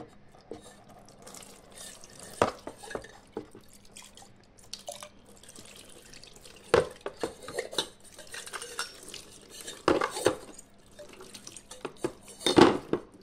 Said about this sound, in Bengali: তো এবার আমি ধুয়ে নেব।